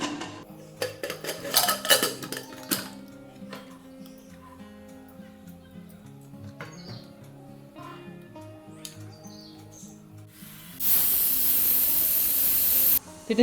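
A pressure cooker on medium flame cooking ghugni lets out a loud, steady hissing whistle near the end, following quieter kitchen clatter, clinks and faint background chirps.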